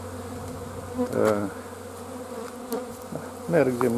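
Honey bees buzz densely and continuously around a hive in an apiary in early March, close by, while a voice speaks briefly at moments.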